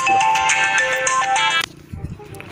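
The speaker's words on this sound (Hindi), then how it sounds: "फोन" A mobile phone ringtone plays loudly and close as a bright melodic tune for about a second and a half, then cuts off abruptly, followed by faint handling noises.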